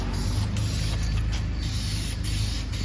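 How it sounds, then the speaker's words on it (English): Wood finish blasts out of a sprayer with a loud, continuous hiss and a low mechanical rumble from the unit, heard alone. "Ooh, it's blasting out of there. That spray's nice."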